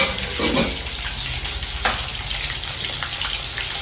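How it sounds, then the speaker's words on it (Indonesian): Tempeh and tofu sizzle steadily as they fry in hot oil, a continuous crackling hiss with occasional louder pops, close by. "Goreng tempe sama tahu"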